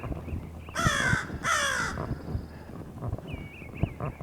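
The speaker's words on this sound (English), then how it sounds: "And we got us a big crow right there" A crow caws twice in harsh, loud calls nearby, over a busy outdoor background with footsteps and faint rustling, on a park trail.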